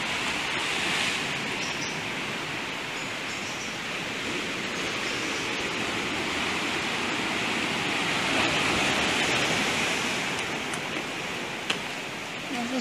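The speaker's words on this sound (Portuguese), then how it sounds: "esse barulho de mar, me traz uma paz tão grande" Sea waves break on a beach in Rio, heard from a little way up a hillside as a continuous, even roar of surf with no distinct breaks.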